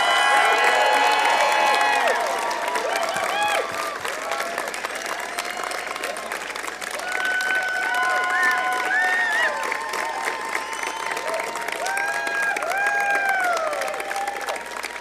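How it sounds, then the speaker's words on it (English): A convocation crowd of graduates and their families applauding and cheering, dense clapping mixed with whoops and shouts, loud and continuous throughout. "I'd like our graduates to give a round of applause and throw out lots of love to your support network in the audience"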